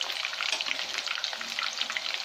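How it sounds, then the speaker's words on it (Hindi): Chicken fingers fry in a pan of hot oil with a dense, steady, close sizzle and crackle throughout, with no voices. "तो ये फ्राई हो चुका है,"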